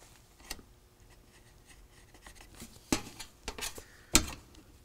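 Scribing taper lines onto a steel shingle: faint scratching and scraping strokes with a few sharper clicks and knocks, quiet and close, with no talking.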